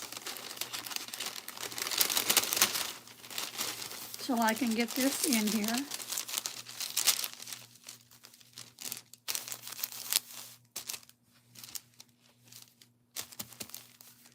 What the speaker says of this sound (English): we're going to be putting a piece of parchment paper on the inside